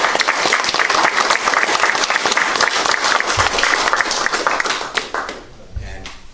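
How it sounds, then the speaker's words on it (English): A room full of people at a Seneca Falls town board meeting claps loudly and steadily for several seconds, then the applause thins out and fades near the end. "we should give him a round of applause"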